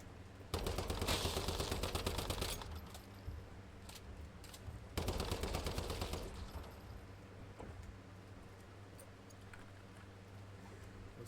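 Rapid automatic gunfire in the survival shooter Once Human, two sustained bursts of fast shots roughly two and four seconds long, loud and close, followed by sparse scattered single shots and clicks.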